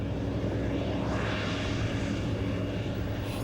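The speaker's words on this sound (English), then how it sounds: "Here comes the tractor." A farm tractor pulling a grain wagon approaches with a steady, continuous engine drone that stays loud and even throughout, with no voices.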